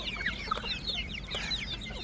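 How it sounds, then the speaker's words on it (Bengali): Young Brahma chicks cluck and cheep in a farmyard after rain. Quick, high-pitched peeps overlap in a busy, steady chatter close by over a low background hum. "এদিকে ব্রাহ্মা মুরগির বাচ্চাগুলো দেখুন"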